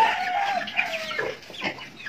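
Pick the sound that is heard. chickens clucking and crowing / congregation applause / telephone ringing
chickens clucking and crowing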